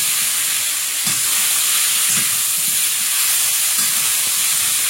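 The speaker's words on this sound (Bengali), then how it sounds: "একটু রসুন বাটা, একটু নাড়াচাড়া করে নিয়ে কচুটা দেবো।" Taro frying with garlic paste in a pan, a dense, loud, continuous sizzle close by, with faint low knocks of stirring underneath.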